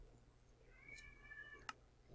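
A house cat meows once, a drawn-out mid-pitched call near the microphone over a quiet room hum, followed by a soft click, with no one talking.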